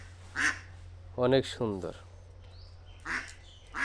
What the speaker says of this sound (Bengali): এই যে চীন হাঁস আমাদের